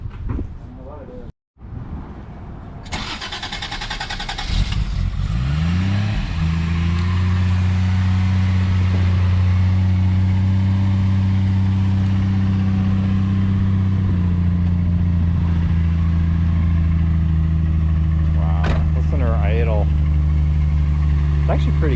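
A 1987 Toyota Supra engine cranks and catches, then settles into a steady, loud idle that runs on for many seconds, with a brief voice heard near the end.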